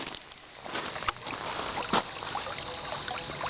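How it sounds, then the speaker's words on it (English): Stream water flowing and bubbling close by, a steady rushing wash with small splashes and gurgles. "The water's flowing pretty good right here."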